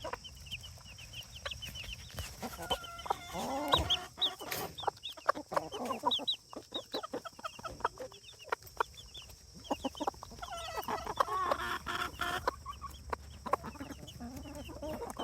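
A broody hen clucks to call her young chicks over to mealworms in their pen, giving repeated soft, quick clucks in uneven bursts, close by, with occasional louder chick cheeps mixed in.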